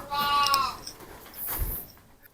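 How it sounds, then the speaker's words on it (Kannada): Bandur sheep bleat faintly at a distance, one wavering call followed by another brief cry, with soft background noise. "ಇದೆಲ್ಲ ಬಂಡೂರ್ ಶೀಪ್ಸ್"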